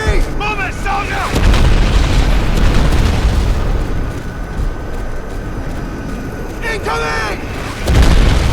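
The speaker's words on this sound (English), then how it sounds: "Artillery!" Artillery fire in the video game Crysis 1 Remastered, heavy booming blasts rolling continuously under battlefield chaos, with shouted soldier voices and radio calls mixed in, loud and dense.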